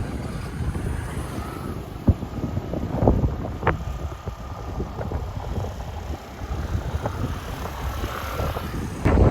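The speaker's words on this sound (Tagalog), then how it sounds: "Malakas yung hangin kasi." Strong wind at the seaside in Taiwan buffets and roars across the microphone in gusts, with sporadic knocks and splashes, no voices heard.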